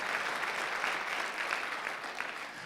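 Church congregation applauding during a Korean Sunday worship service, a steady dense wash of clapping that holds for about three seconds with no voices over it.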